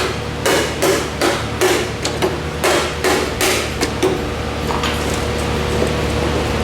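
Sharp hammer blows strike a corroded, roughly 60-year-old tractor part, about a dozen loud metallic hits in uneven bursts, some close together and others spaced apart.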